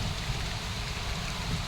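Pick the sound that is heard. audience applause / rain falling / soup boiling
rain falling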